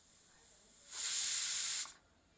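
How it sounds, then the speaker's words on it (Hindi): A steady, loud hiss of steam escaping from a pressure cooker cooking mutton for about a second, starting and stopping abruptly, with quiet background before and after. "भाप स्वतः मुक्त होने देते हैं"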